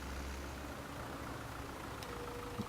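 Tractor in Farming Simulator 2017 idling and pottering along, a low steady engine hum at moderate level with a faint click near the end, no talking.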